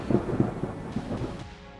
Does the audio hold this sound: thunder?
yes